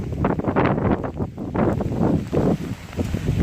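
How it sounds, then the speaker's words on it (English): Strong gusty wind from Hurricane Irma buffets the microphone outdoors in Tennessee, a continuous loud roaring rush that surges and eases in uneven waves with no talking. "The wind feels okay, it's somewhat cold."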